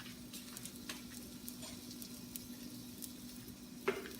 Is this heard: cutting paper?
no